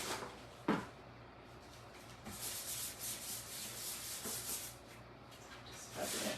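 Paint is rubbed off a tarnished thrift-store silver platter riser to distress it, a soft, close, continuous scuffing and rubbing with a couple of faint knocks.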